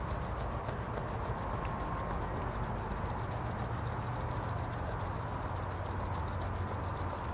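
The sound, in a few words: hands rubbing together to warm them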